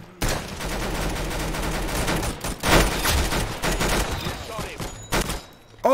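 Dense, rapid gunfire rattles almost continuously in the Roblox game Arsenal, loud and close, with a few brief gaps and a voice briefly under the shots.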